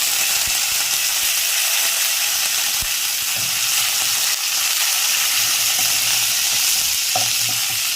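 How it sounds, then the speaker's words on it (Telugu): Curry leaves sizzle and crackle loudly in hot oil with mustard seeds, cumin and fenugreek, a steady dense frying hiss with scattered pops and spatters throughout. "ఆవాలు జీలకర్ర చిటిపెట్టమన్న తర్వాత మెంతులు చిటిపెట్టమన్న తర్వాత కరివేపాకు వేసుకోవాలి"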